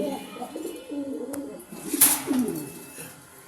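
Caged pet birds give soft, low cooing calls close by, with a brief sharper chirp in the middle of the short stretch.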